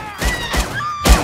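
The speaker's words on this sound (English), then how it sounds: "Oh wow, we're starting off with crazy gunfire already." Gunfire in an action scene from the Netflix Cowboy Bebop series: a few heavy, booming shots land at intervals over a steady background, the last one loudest, with no one talking.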